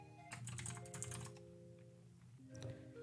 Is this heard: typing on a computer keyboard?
yes